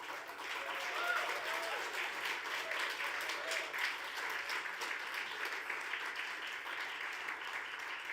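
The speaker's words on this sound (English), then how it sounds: "Can I also just get the loudest cheer for each of these 12 finalists?" An audience at an awards ceremony cheers and applauds the finalists, sustained steady clapping filling the whole stretch at moderate distance.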